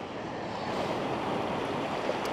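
Sea surf at a rocky shore near high tide, a continuous dense roar of breaking waves with some wind noise, steady and fairly loud throughout, no voices.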